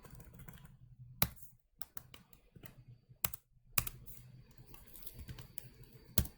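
Code being typed on a computer keyboard for a Python tutorial, with soft quiet key clicks in irregular bursts and a few louder isolated key strikes, no talking.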